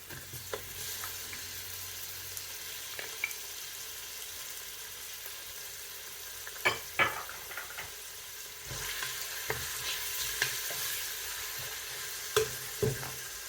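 Onion and leek sizzle in a pot with meat, a steady frying hiss broken by a few sharp spits and stirring clatters, with no voices over it.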